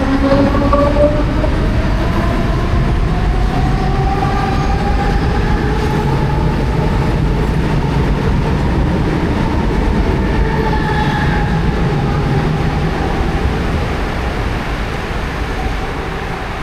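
Mumbai local train pulling out of a station, a loud continuous rumble of wheels and carriages close by, with rising and falling motor whine throughout.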